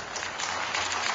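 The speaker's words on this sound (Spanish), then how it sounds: "Un aplauso para los señores" Brief burst of crowd applause for soldiers at an outdoor political broadcast event in Venezuela, steady dense clapping throughout with no speech over it.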